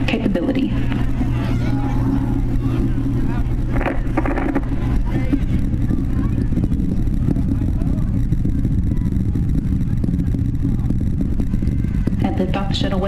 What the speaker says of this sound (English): Engines are now throttled back up and performing in full capability.